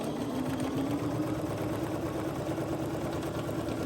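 Sewing machine running steadily while stitching a quilt block, a continuous close mechanical whirring hum with a fast even stitch rhythm and no pauses or talking.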